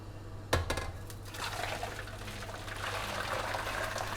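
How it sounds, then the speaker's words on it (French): Hot water is poured into a dish to cook a country terrine, a sharp clink of the container followed by a steady close pouring rush under a low constant hum. "on commence par mettre de l'eau chaude"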